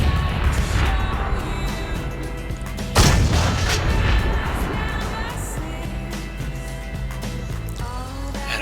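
A tank cannon fires in a World of Tanks-style battle among tier 10 tanks, one sharp loud boom around the midpoint over dense continuous game engine rumble and background music-like tones.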